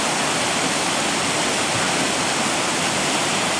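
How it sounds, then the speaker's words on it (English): A waterfall roars as a continuous, dense rush of water, steady and loud throughout with no voices. "we can come and see this little bit of a waterfall here"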